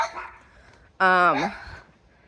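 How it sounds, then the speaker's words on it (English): A dog near a house lets out one loud, close bark-like yelp that bends downward in pitch, with quieter ambient noise and faint sounds before and after on a street walk. "this house and these dogs. They're very loud."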